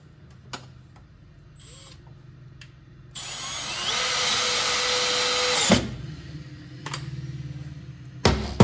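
A power drill drives a screw into plastic wheel well trim, first with short taps, then with a steady whirring run of a few seconds that stops abruptly, followed by brief clicks and a final burst.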